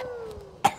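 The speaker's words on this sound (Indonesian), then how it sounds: "Batukin jangan ke muka gua." A single short, sharp cough bursts out close by near the end, after a brief faint tone, with no talk.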